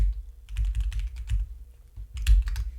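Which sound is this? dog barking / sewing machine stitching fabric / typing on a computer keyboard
typing on a computer keyboard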